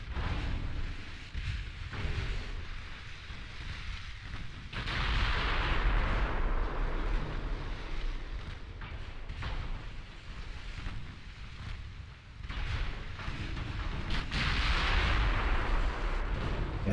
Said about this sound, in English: these 14-inch guns are just so wild on their shooting